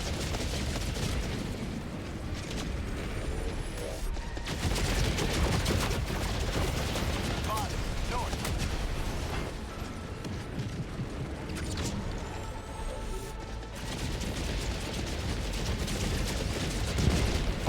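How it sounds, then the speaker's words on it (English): An air strafing run in Helldivers 2 unleashes a dense, relentless barrage of gunfire and explosive impacts, loud and continuous with brief dips, swamping everything else. "Oh god, that's a strafing run."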